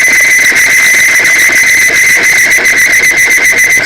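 Timken OK load test machine running with a seizing bearing, giving a loud, continuous high-pitched metallic screech and whine with harsh grinding grit underneath, steady throughout.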